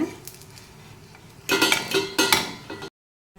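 Sweet potato poli being turned over in a pan on medium heat, heard as a few sharp metallic clinks and scrapes of a utensil against the pan after a quiet stretch, close and fairly loud, with no talking.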